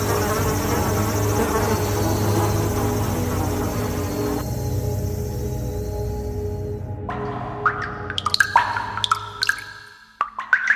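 Swarming insects and flies buzzing, a dense steady drone that thins out partway through, followed by a few sharp, close buzzing passes near the end.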